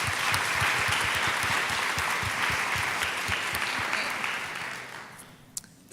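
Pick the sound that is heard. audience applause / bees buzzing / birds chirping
audience applause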